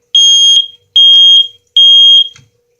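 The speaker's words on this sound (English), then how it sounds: "Now let's test this smoke alarm." A smoke alarm being tested sounds three loud, shrill beeps in a steady pattern, each lasting about half a second with short gaps, close by and alone.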